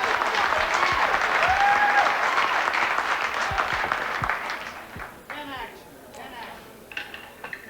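A crowd applauds after Earl Strickland makes the 9 on a 9-ball break at the 1990 Glass City Open; loud sustained clapping fades into scattered claps and crowd murmur, with talk over it.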